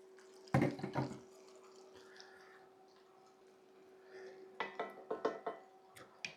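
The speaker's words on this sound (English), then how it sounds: "the time has come to put our onions and potatoes in with the bacon" Onions and potatoes tipped into a pan already holding bacon: two bursts of clattering, rustling impacts, the first short and the second a longer run of knocks, over a steady low hum with no talking.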